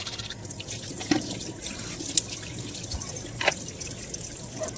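Water falls from a tap early in the morning, a steady close trickle with scattered drips and splashes, with no voices.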